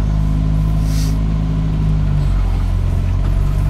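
A Renault R8 Gordini drives along with a loud, steady engine drone heard from inside the car, its low-pitched hum shifting gear partway through and holding a constant rumble with no talking.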